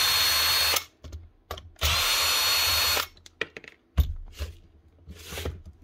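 Keyang hammer drill in a workshop, running in several loud bursts of buzzing whir separated by short pauses and handling clatter, with no talk.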